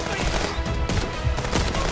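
Gunfire in the video game Contraband Police: dense, continuous bursts of shots and impacts fill the whole two seconds, loud and busy, with no clear talk over it.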